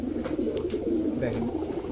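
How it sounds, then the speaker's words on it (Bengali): An old-breed male pigeon with a silver-green neck coos in low, rolling throaty phrases, close and moderately soft, repeating across the short span. "এটা আমার একটা ধরা নর কবুতর। কবুতর নজরটা খুব ভালো, কিন্তু একদম পুরান জাতের একটা কবুতর, সিলভার সবুজ গলা।"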